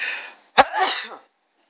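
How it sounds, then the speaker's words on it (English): A single sharp sneeze bursts out, preceded by a breathy inhale and followed by a short exhaling breath. "I have to sneeze."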